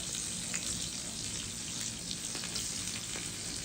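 Chopped onion sizzles steadily in hot oil with cardamom, cloves and mace for a katla fish curry, a dense, even frying hiss with faint crackles throughout.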